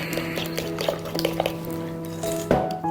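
Okonomiyaki batter with cabbage is stirred in a bowl, giving close, wet squishing and light clinks of utensil against the bowl over a steady background hum.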